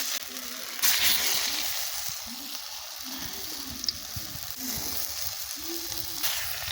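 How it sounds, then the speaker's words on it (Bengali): Pumpkin tikki balls fry in hot oil in a wok with a steady bubbling sizzle, close and moderately loud, brief bursts where each piece drops in, and a low voice murmuring underneath. "গোল গোল করে এইভাবে দিয়ে দিলাম সব একে একে আস্তে আস্তে করে সবগুলো আমি এইভাবে গোল গোল করে তেলের ওপর দিয়ে দেবো"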